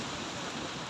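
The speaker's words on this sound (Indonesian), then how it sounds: "Alhamdulillah ini hujan-hujan." Steady, dense rain pours down outside a roadside food stall, a close, loud, even hiss with no voices over it.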